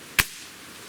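A single sharp shot from a Ruger Air Magnum .22 caliber breakbarrel air rifle, one brief crisp crack fired close, followed by quiet room tone.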